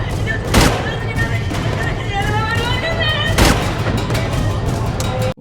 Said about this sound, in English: Wow, he shot them both.